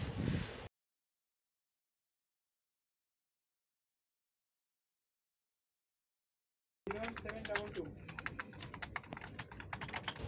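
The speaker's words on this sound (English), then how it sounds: "Let's show my typing speed." Rapid clicking of fingers typing on a computer keyboard during a timed speed test, a dense rattle of keystrokes that starts abruptly after a long silence, with a brief burst at the very beginning.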